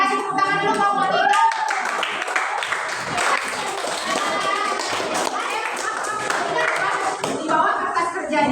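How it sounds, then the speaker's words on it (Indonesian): Students in a junior high classroom clap for a presenting group, the brisk uneven hand claps mixed with children's voices and chatter throughout, fairly close and steady. "kelompok 3 kita kasih tepuk tangan dulu kelompok 3."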